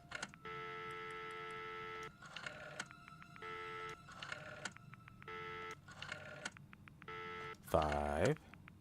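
Rotary phone being dialed in the Friday the 13th video game, a cluster of repeated electronic tones and clicks in short bursts separated by brief pauses, ending with a louder warbling ring-like tone.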